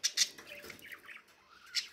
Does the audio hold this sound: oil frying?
no